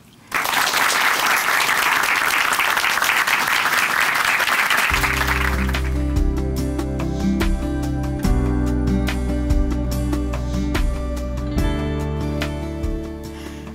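A studio audience at a Christian church broadcast gives loud, dense applause welcoming a speaker from Chuncheon Hanmaum Church for about five seconds, then the clapping fades out as music takes over.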